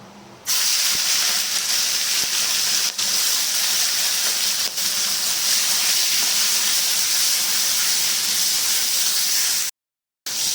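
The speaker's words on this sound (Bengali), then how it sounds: "তেল গরম হয়ে গেছে মাছগুলো ভেজে নেবো" Prawns frying in hot oil in a home kitchen make a loud, steady hiss that runs on for about nine seconds with a few soft clicks, then stops abruptly.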